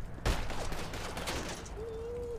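A gunshot rings out close by in a GTA V roleplay game, followed by steady background game ambience with a brief tonal whine near the end.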